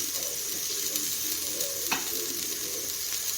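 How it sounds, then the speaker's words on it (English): Garlic sautés in an Instant Pot, giving a steady, close sizzle with a faint crackle. A single clack of a stirring utensil against the pot cuts in partway through. "I'll let that saute for just a minute till the garlic becomes fragrant"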